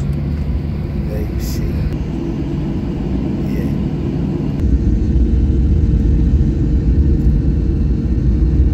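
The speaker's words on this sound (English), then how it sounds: "Takeoff has started" Airliner engines roar up for takeoff on a flight from Amsterdam Schiphol to Budapest, a steady cabin rumble that swells louder about halfway through as thrust builds.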